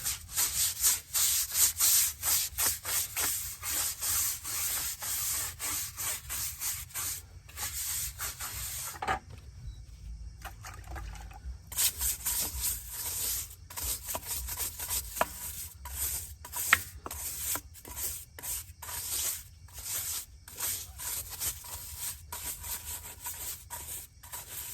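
A brush scrubs heavy, years-old brake dust off the inside of a car wheel rim, a close, rapid back-and-forth scratching in bursts with a short pause midway.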